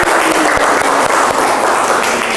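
Students in a classroom give a round of applause, dense and steady clapping from many hands that stays loud throughout.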